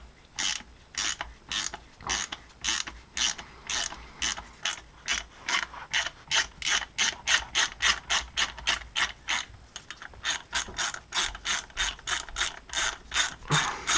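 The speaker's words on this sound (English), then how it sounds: "I've got a T-56 here with the forward-facing solenoid, so I'm just going to pop this off." A hand ratchet clicks steadily in quick repeated strokes while a forward-facing lockout solenoid is removed from a T-56 transmission, close and loud with no talking.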